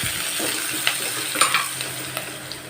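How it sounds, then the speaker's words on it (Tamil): Onions with curry leaves and salt sauté in a pan, a constant soft sizzle broken by a few sharp scrapes and clicks of the stirring spoon, with no voices. "நம்ம இந்த வெங்காயத்தை லைட்டாக வதக்கி எடுத்துக்கலாம்."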